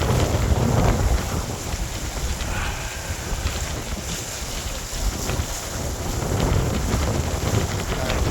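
Strong wind gusting over a small boat on a trip along the Trent Severn Waterway near Bobcaygeon, with steady, loud blustering noise against the microphone and water sounds underneath.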